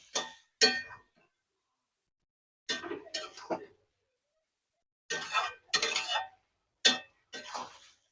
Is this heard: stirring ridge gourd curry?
yes